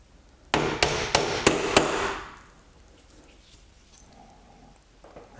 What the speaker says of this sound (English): come through with a hammer and just tap those down